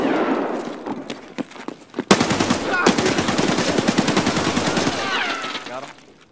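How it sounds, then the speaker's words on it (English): Automatic gunfire rattles in the Escape from Tarkov video game, a long rapid burst of loud, close shots following a few scattered single shots, with players talking over it. "we're getting shot at downstairs"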